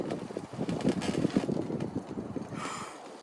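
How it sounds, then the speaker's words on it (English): Wind gusting at a campsite, a loud rumbling buffet of air against the microphone that swells, then eases toward the end. "Wind's still kicking."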